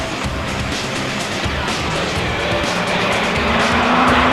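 1986 Suzuki GSX-R 1100 racing motorcycles on a track, a dense, continuous roar of engines with rising whine as bikes pass, heard from trackside without pauses.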